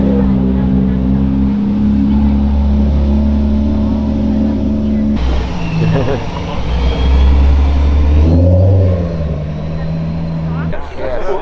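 A Volkswagen car engine running at a Cars & Coffee meet in Menlo Park, with a loud, close, low rumble and rising revs, while people talk nearby.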